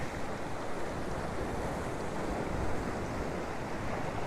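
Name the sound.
ocean waves rolling in at Hervey Bay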